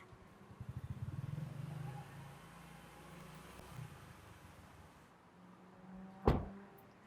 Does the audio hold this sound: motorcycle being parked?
yes